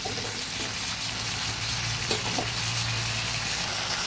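A little water is added to a spice mix frying in a pan, producing a steady loud sizzle and hiss with a low hum underneath, continuous throughout without a voice.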